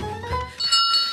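A bell rung by racers at the first checkpoint of a cartoon race, several bright metallic rings sounding close and clear with no talk over them.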